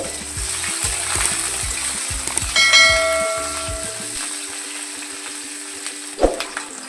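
Onions and Bengali five-spice seeds fry in hot oil in a pan, making a loud, steady close sizzle with rhythmic stirring knocks and a few ringing metallic clinks that fade toward the end.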